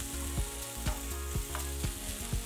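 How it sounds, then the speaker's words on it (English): Cabbage fries in a pan with a steady low sizzle, while a utensil stirs it in regular knocks roughly every half second, close and clear with no talking. "let's have a goosey at the cabbage that Sunshine's got cooking on here"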